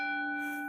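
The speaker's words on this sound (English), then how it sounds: "follow the bell." A mindfulness bell rings once with a clear, sustained metallic tone and bright overtones, loud and close, holding steady and fading only slightly over its short span.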